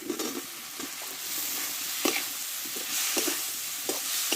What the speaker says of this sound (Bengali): আলুর সঙ্গে মশলাটা একটু ভালো করে কষে নেব দেখো